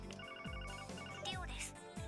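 An electronic phone rings in the video game Trails from Zero, a repeating synthetic ringtone trill playing steadily and fairly faint over the game's background music.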